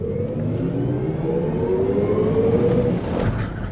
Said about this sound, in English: Now, we are going to floor this car as fast as I can.